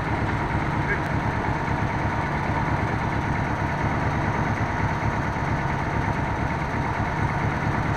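Old Checker limousine engine running after a first start in 28 years, a steady close idle with an even low rumble and exhaust drone, while someone talks over it.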